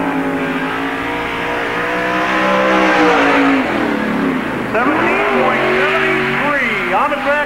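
A 1997 NASCAR Busch All Star Tour stock car runs a qualifying lap at Park Jefferson Speedway, its engine roaring loud and close with rising and falling pitch as it drives through the turns, while an announcer talks over it.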